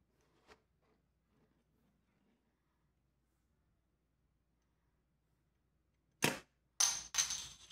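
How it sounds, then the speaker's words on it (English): A toy trebuchet from a Crossbows and Catapults 2024 set launches its ammunition: after a long quiet stretch with one faint tap, a sharp close snap is followed by a quick clattering burst of impacts, loud and with no voices. "Now let's load up the trebuchet and give this a shot."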